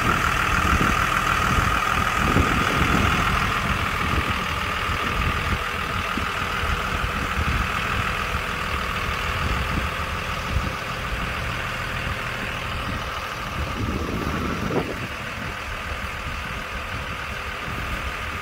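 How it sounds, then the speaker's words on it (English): A tractor-trailer truck engine runs steadily while backing and maneuvering, a continuous mid-pitched drone with slight swells in intensity throughout. "Brought the tractor and trailer around straight with itself."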